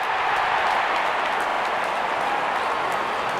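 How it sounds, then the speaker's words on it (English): A crowd in a cricket video game cheers as the opening batsmen walk out, a dense steady wash of applause and crowd noise with no clear voices. "Out come the openers, cheered by a good crowd in."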